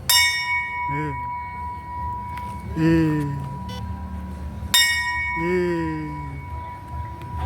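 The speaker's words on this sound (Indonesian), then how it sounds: "Lonceng ini dibunyikan sebanyak 3 kali kalau ada orang meninggal." A death bell at Taman Prasasti cemetery strikes twice with sharp, ringing clangs that hum and fade slowly, while people talk quietly in between.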